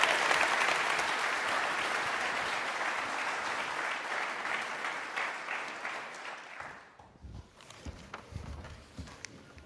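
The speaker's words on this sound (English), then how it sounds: "So let's give a Johanna a round of applause." Audience at a classic yacht symposium breaks into dense, steady applause for about seven seconds, then it thins to scattered claps and room noise.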